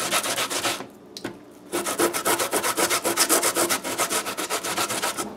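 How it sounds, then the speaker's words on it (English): Pumpkin and coconut are grated by hand for pumpkin pone, with quick rhythmic rasping strokes close up. The grating stops briefly near the start, then resumes in a steady run. "So we're gonna grate this out, guys."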